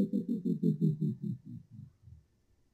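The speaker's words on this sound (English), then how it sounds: "Turntable losing power." A synthesized turntable-losing-power effect made in Adobe Audition gives a pulsing low warble that slows and drops in pitch, fading over about two seconds into silence, heard alone.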